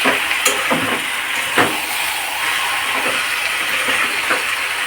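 Pumpkin and Malabar spinach with hilsa fish head sautéing in a pan, a loud continuous close sizzle broken by a few soft stirring knocks.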